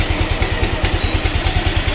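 A Yamaha Aerox scooter, in use for about six years, idles on its own with a steady, rhythmic low putter and a faint mechanical clatter.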